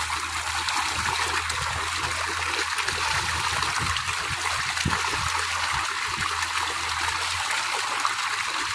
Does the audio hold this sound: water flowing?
yes